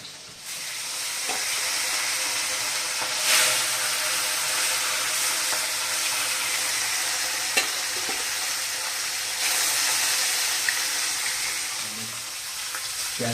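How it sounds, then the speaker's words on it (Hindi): Fish sizzles steadily in hot oil in a pan while it fries for a Bengali-style fish curry, a continuous close crackle with a few brief stirring knocks and no talking. "अब देखिए मानस भाई अपना मछली फ्राई कर रहा है।"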